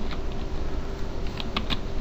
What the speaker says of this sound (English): if I typed in today's date